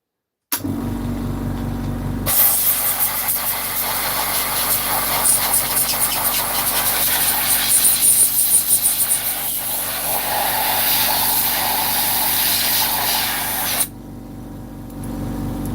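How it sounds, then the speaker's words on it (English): An air compressor runs steadily with a loud, even hiss and motor drone, a lower hum beneath it, cutting back to a quieter hum near the end. "I'll put on the compressor again, I think."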